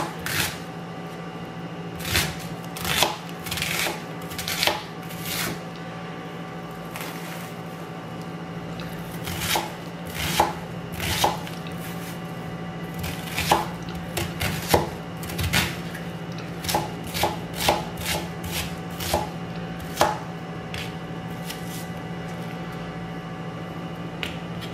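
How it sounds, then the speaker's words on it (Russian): A knife chops onion on a cutting board for Turkish potato soup, giving sharp, irregular clicking cuts in bursts against a steady low hum, close and moderately loud with no talk. "Мы нарезаем лук, we cut onion."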